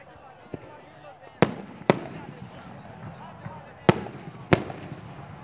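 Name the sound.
fireworks at Minar-e-Pakistan on Pakistan Day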